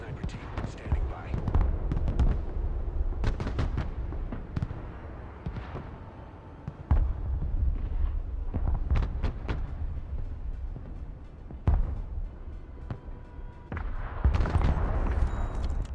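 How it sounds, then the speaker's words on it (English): Direct-fire gunfire in the war game Broken Arrow, repeated sharp shots and bursts spread irregularly across sixteen seconds over rumbling battle noise, with radio-style voices talking in between. "Engaging targets with direct fire."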